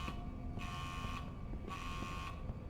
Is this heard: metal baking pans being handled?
no